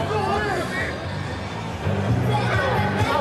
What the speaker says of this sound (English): It's a small but hearty crowd for this match.